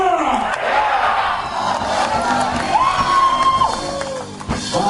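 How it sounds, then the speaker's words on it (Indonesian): A big crowd cheers and shouts at a campaign rally held in a stadium, with loud whoops and cries rising and falling throughout. "Tepuk tangan untuk kita semua."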